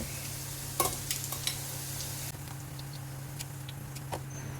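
Potatoes stir-fry in olive oil with a steady sizzle and a low background hum, punctuated by a few sharp scraping clatters of a utensil in the pan.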